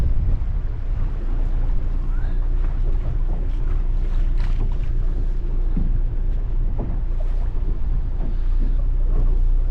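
Gusty coastal wind buffeting a small fishing boat, a continuous low rumbling roar of wind on the microphone with faint water and hull noises mixed in, loud and unbroken throughout.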